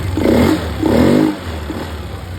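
Honda Scoopy i motorbike with a clogged fuel injector catching and running, heard close and loud: two quick throttle revs, then a steady idle.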